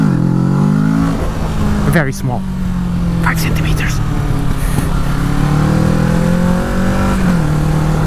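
A 2017 Kawasaki Z650 motorcycle accelerates hard for a small wheelie, its mid-pitched engine revving up and falling back as the rider shifts, heard up close with wind noise and with the rider talking over it.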